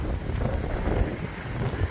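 Wind buffets the microphone in a steady, heavy rumble and roar, close and continuous for the whole moment, around noon in Al-Ahsa.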